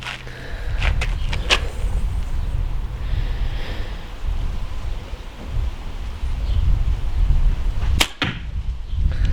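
Arrow loosed from a Topoint M2 kids compound bow fitted with small low-drag vanes, shown as a sharp twang and whoosh near the start and a louder snap around the eighth second, set against steady outdoor background noise.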